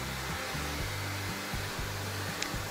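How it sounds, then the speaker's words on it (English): A K9 Fluffer dog dryer blows air continuously while drying a freshly bathed standard poodle, a steady close whooshing motor hum with a slight wavering pitch throughout. "now I'm blow drying her using the K9 Fluffer Dryer"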